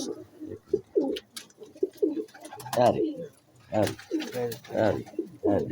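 Pigeons coo in repeated soft, throaty phrases on a Lahore rooftop, close and clear, with a voice speaking intermittently among the calls.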